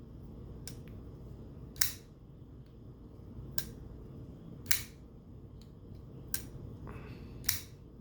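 Blade of a CJRB Feldspar folding knife flicking open and snapping shut, giving sharp isolated clicks about every second or two over a low steady background hum, close and crisp.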